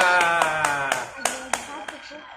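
A group of children claps hands in a short run of about eight separate claps, spaced and fairly close, over a lingering sung or spoken tone.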